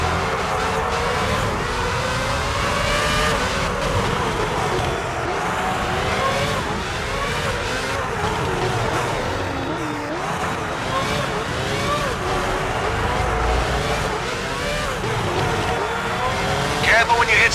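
Formula 1 race car engines from the F1 06 game on PS2 drone and whine continuously around the Monaco street circuit, with shifting pitch as cars rev and pass, mixed with a voice talking over the racing.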